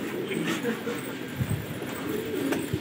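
Colourful fighter pigeons kept in Lucknow coo softly and repeatedly amid steady background noise and occasional low thumps, with faint voices in the distance.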